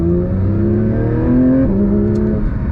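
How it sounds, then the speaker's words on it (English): A Porsche 911 GT3 (992) naturally aspirated engine revs loudly up through the gears in sport mode, pitch climbing steadily, then dropping at a shift before climbing again, close and powerful. "We put it into sport mode and give it some throttle."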